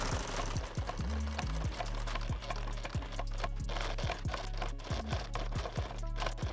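A sewing machine stitches upholstery in a workshop, its motor running in a steady rapid mechanical rhythm with brief pauses and speed changes, close and loud, without talk.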